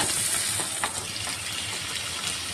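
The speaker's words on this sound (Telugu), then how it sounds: "చికెన్ వేస్తున్నాను చూడండి." Chicken pieces go into hot oil in a pan for a Sunday chicken curry, and a continuous bright sizzle follows, with a few soft stirring scrapes and spatters.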